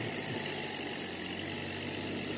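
Steady, unbroken drone of a tractor engine running while it tills a rice field, even in level with no pauses or breaks.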